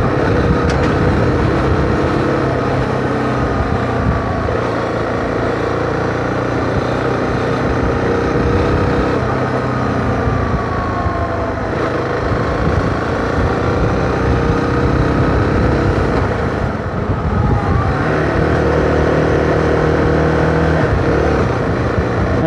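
A Zontes T 310 motorcycle is ridden over bumps and potholes, its engine droning loudly and continuously with slight shifts in pitch and a somewhat noisy mechanical edge.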